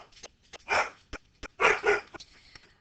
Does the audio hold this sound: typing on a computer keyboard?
no